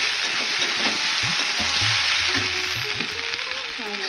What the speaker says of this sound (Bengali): এই যে এবার দিয়ে দিলাম কাজু